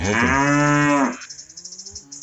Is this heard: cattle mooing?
yes